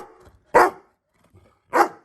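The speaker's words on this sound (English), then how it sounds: "I think that's enough barking" A guide dog barks twice in short, loud, separate barks with a pause between them, indoors and alone without talk.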